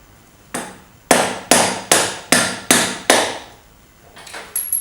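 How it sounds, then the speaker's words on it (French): A screwdriver is hammered to knock out a ground-down link on a motorcycle chain, giving seven sharp, loud metallic blows at a steady, even pace close by, each ringing briefly before the next. "On reprend donc notre tournevis. Et tout simplement, on va faire sauter donc le maillon."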